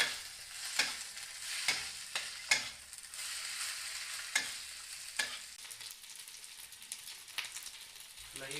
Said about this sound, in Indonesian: Setelah itu masukkan kol yang sudah kita giling ke dalam wajan.